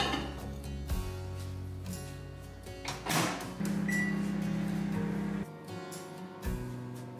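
Microwave oven heating a bowl of water with lemon peels: a steady low hum with door clicks and thuds, a rising tonal drone through the middle, then a stop and a faint beep, close and alone without talk.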